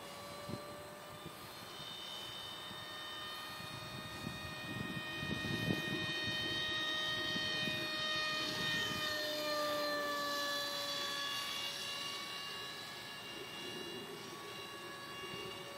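RC F-18 model jet with thrust vectoring flying in a tailwind, a steady, fairly distant high turbine whine whose pitch bends and slides as it maneuvers, with outdoor noise underneath.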